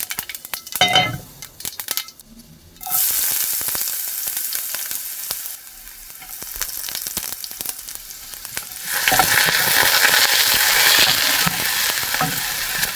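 Whole cumin seeds fry in hot oil with a loud, close sizzle that swells after a short clatter of utensils. It grows louder again near the end, with occasional stirring and no voices.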